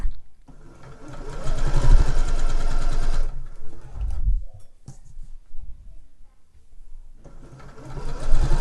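A home sewing machine runs a default straight stitch of about 2.2 to 2.3 length along trouser legs, whirring steadily in close, loud bursts with pauses between seams and a final run near the end.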